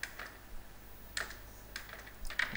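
Someone types code on a computer keyboard, with a few quiet, separate key clicks and a short cluster of taps near the end.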